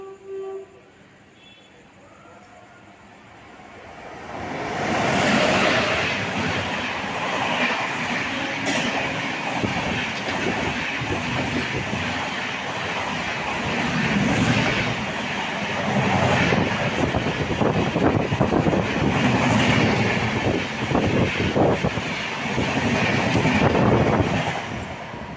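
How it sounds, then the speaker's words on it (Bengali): The Kamrup Express speeds through Kumtika station without stopping. After a few quiet seconds a loud rumbling roar builds and holds, with rhythmic wheel clatter and rail noise as the train passes close by. "আর এবার ঢুকছে সেই কামরূপ এক্সপ্রেস।"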